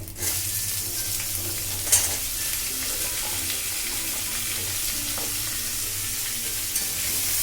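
Bitter gourd pieces fry in a pan with whole mustard seeds, giving a steady, close hiss of sizzling oil that runs unbroken throughout, with an occasional light clink of a utensil.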